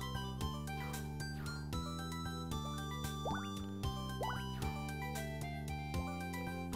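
Water effects from The Legendary Starfy, a Nintendo DS platform game, drip and bloop over steady tonal game music, with several brief rising watery swoops in the middle and no talk.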